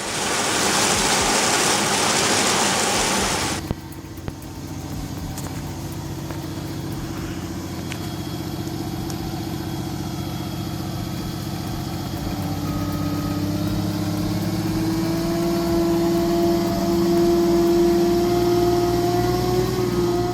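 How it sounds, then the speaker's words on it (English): A tractor-mounted double chain trencher digs deep trenches. A burst of broadband rushing noise at the start gives way to a steady, droning engine with shifting mechanical tones that swell and grind, with no talk. "A double chain trencher riding on a tractor, digging perfect 2-meter deep trenches, 60 centimeters wide."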